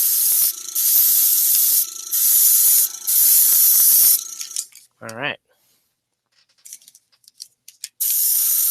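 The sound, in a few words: spraying down a painted figure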